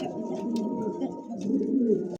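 A black Lahori pigeon coos softly and close, a short run of low, throaty coos with a brief pause in the middle.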